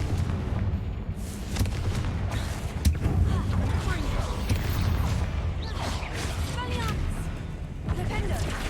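Confringo blasting spell explosions in the game Hogwarts Legacy, heard inside a tomb as repeated booming blasts and rumbles over dense continuous game noise, with voices talking throughout.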